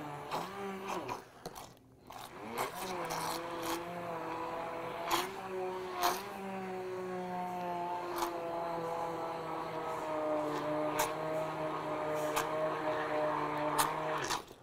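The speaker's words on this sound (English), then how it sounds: "we increase the speed of the immersion blender" A Vitamix 18-inch stainless steel immersion blender motor drives through smoothie ingredients, its steady whine rising in pitch as the speed increases and holding a sustained, fairly loud drone with a few clicks and bumps throughout.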